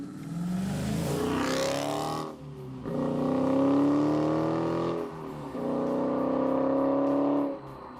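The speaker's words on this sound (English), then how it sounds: "the rumble of the big V8 is your constant, albeit subdued, companion for the trip" A 2018 Dodge Challenger T/A 392 with an SRT-tuned Hemi V8 revs loud and close in three rising pulls, each climbing in pitch, separated by short drops to a lower rumble.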